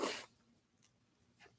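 A single loud, close sneeze bursts out at the very start from a host during a live talk broadcast, then fades to near silence with only a couple of faint small noises.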